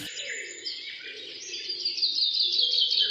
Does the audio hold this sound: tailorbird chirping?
yes